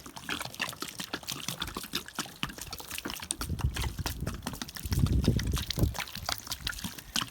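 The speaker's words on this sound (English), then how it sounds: "I'm going to put a little water on it to see how it looks with some water." Water is poured from close range onto a freshly milled cedar log, a soft, quiet trickle and splash that runs steadily with no talking.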